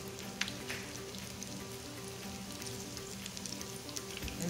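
Steak egg rolls frying in vegetable oil make a soft, even crackle and sizzle, fairly quiet and steady throughout, with a few small pops and no speech.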